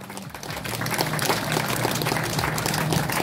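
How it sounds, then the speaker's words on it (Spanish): An audience applauds the mayor at the Santa Rosa festival, a dense, sustained wash of clapping that sounds fairly close and carries on throughout. "quiero pedir un aplauso para el señor alcalde"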